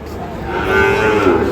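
A single Shahiwal bull calf moos loudly and close by at Ambari cattle market in Dinajpur, a drawn-out low call with faint crowd murmur behind it.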